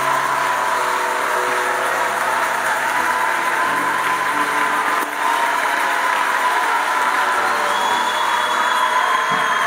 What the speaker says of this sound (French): Nous allons le recevoir avec des acclamations